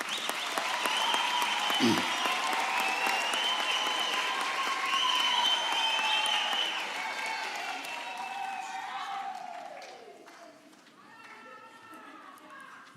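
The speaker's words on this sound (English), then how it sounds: "can we give a warm round of applause to our graduates?" A large crowd applauds graduates at a university autumn graduation ceremony, sustained dense clapping mixed with cheers and high ululating voices, swelling early then gradually thinning and fading toward the end.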